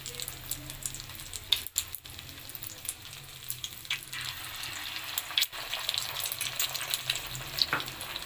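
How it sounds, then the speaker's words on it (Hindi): Meatless shami kebabs made with potato and chana dal frying in a pan, a soft, continuous sizzle and crackle with scattered small pops, fairly quiet and heard without talk. "पहले एक तरफ से फ्राई करेंगे,"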